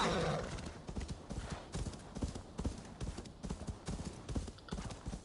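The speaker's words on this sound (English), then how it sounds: "We have got a horse." A horse gallops in Assassin's Creed Valhalla with steady, rapid hoof clip-clops, fairly close and continuous over a faint background, and one brief whinny near the start.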